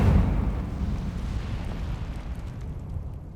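Incendio fire spell cast in Hogwarts Legacy: a sudden whooshing burst of flame with a deep rumbling low end, fading over a few seconds.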